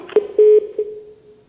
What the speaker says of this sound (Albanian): u shkëput linja.